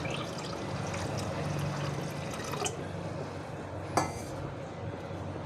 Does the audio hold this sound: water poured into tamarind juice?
yes